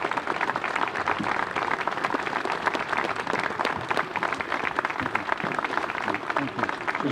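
A crowd at a Veterans Day parade applauds for veterans, dense sustained clapping from many hands that stays loud and even throughout, with some voices mixed in.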